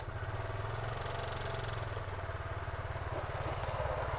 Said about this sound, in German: wie der Roller startet, weil durch diese Start-Stopp-Automatik startet der ganz sanft